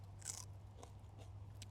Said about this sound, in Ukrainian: Так хрумтить.